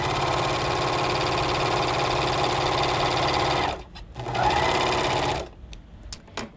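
White Speedylock 299 serger stitching fabric with differential feed, a loud close rapid mechanical whirring hum that runs steadily, pauses briefly, resumes for about a second, then stops with a few small clicks.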